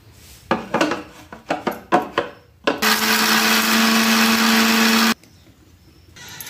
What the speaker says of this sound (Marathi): मी आता पहिला कांदा दळून घेते हा मिक्सरमधून